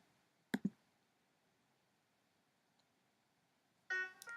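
Two quick computer mouse clicks sound close together near the start in a quiet room, then a louder burst of brief clicking and clatter near the end.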